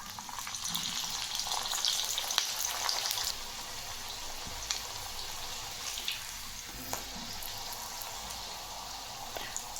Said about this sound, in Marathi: आता आपण आपल्या पुऱ्या तळून घेऊ।